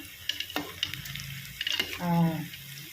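Cauliflower bajji frying in hot oil and being turned over, a close crackling sizzle broken by brief scraping and stirring clatter, with a voice heard faintly over it.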